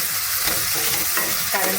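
Green peas for aloo matar paneer upma stirred in a hot pan, giving a steady close sizzle with scraping stir strokes and no talking.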